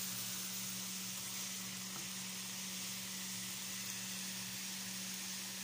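Camel liver stir-frying with green beans and bean sprouts gives a steady, even sizzle with a constant low hum underneath, holding without a break.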